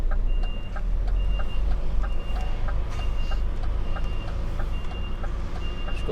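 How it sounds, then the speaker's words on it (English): A truck's reversing alarm beeps steadily and repeatedly while it backs out, regular evenly spaced tones over a loud, rumbling engine drone, with no talking. "Car reversing."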